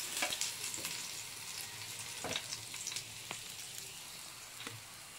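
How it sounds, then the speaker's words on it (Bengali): Fish frying in hot oil, a steady close sizzle with scattered sharper pops and crackles running through all five seconds, no voices. "মাছগুলো ভেজে নিচ্ছি।"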